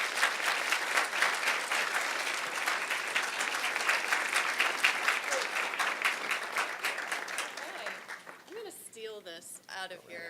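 An audience applauds as a speaker is welcomed onto the stage at an innovators' lecture event, with sustained loud clapping from a crowd that thins toward the end as a voice begins speaking.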